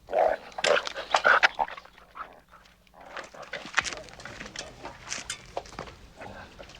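Young puppies in a kennel yip and whimper in a burst of excited barks, then softer scattered whines and snuffles, close by with faint human voices in the background.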